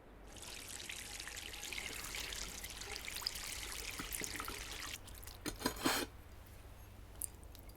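Drinking water is poured indoors in a steady trickling stream for several seconds, followed by a few sharp clinks and taps of the vessel in a quiet room.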